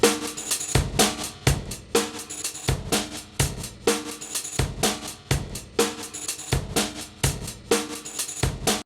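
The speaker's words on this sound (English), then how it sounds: "What I've got here is a breakbeat," Looped breakbeat drum sample with punchy kicks, snappy snares and bright hi-hats repeating in a steady groove, loud and up front with no talking.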